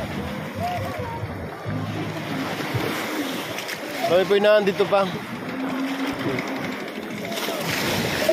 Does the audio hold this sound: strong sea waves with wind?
yes